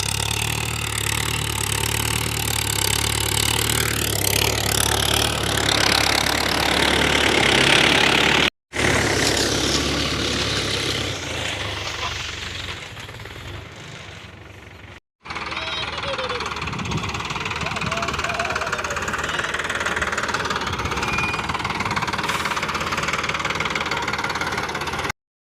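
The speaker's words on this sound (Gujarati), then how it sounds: "ટ્રેક્ટર આવી ગયું છે," A tractor engine works a cumin field while cutting irrigation furrows, a loud rough diesel knock and rumble running continuously nearby, easing in level partway through, with a couple of brief dropouts.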